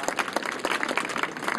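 Brief burst of crowd applause at the opening ceremony of a high school baseball tournament, a dense, steady patter of many hands clapping together.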